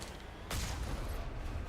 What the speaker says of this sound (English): Direct hit with a tank cannon.